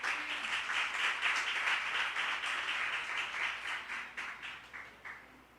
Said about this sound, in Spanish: Dale un aplauso al Señor ahora